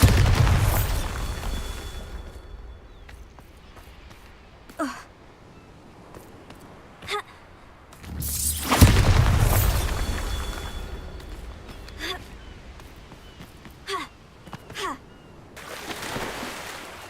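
Bombarda explosion spells cast in the video game Hogwarts Legacy, with a couple of booming bursts standing out among softer pops and effects, the loudest blast about halfway through.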